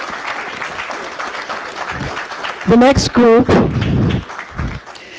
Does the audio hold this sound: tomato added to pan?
no